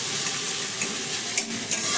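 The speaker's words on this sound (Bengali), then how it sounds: "পেঁয়াজ আর আদাটাকে হালকা একটু নাড়াচাড়া করে ভেজে নেব" Chopped onion and a little grated ginger sizzle steadily as they are stirred and fried in a pan, with a couple of brief scraping stirs over the continuous close frying hiss.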